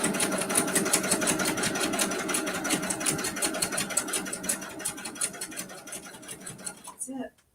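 A sewing machine runs steadily and close by, rattling as it stitches the last corner of a quilt, then stops abruptly near the end.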